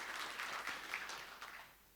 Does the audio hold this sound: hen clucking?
no